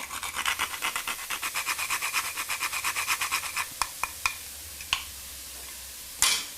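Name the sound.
stirring spiced apple mixture in a pan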